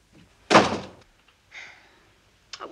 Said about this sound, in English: Do you want me to close the door?